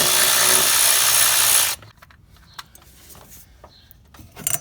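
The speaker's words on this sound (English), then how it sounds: "let's just go ahead and remove the 4 10mm bolts that hold on all 4 coils" A power tool spinning out 10mm coil bolts on a 2004-2015 Nissan Titan engine, a loud, close whirring burst of nearly two seconds, then quiet clicks and handling noises.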